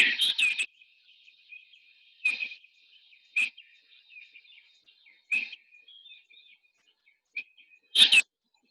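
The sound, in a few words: Hartlaub's spurfowl calling at sunrise, Erongo Mountains, Namibia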